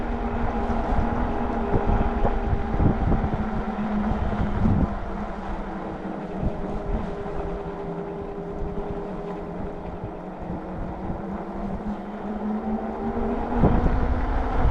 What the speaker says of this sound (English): I'll let you listen to those motors through this last steep,